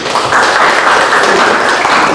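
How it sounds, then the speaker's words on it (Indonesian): A classroom of students claps together in a short, loud, dense burst of applause during a lesson, continuing evenly for about two seconds. "Oke, kita beri tepuk tangan."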